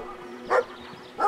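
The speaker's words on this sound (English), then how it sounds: "It's a fucking dog." A dog barks twice in the video game Brothers: A Tale of Two Sons, two short, fairly loud, close yaps spaced well apart over a faint background hum.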